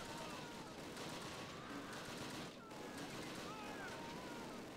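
Gunfire in the Close Combat video game during a WWII counter-attack at Pont L'Abbe: a dense, continuous wash of distant rifle and machine-gun fire, steady throughout with a brief dip midway.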